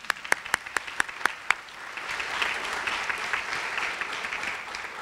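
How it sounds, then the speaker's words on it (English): Audience applause at a university lecture, opening with a few sharp, evenly spaced individual claps before swelling into steady, moderately loud clapping from the crowd. "Also, a round of applause."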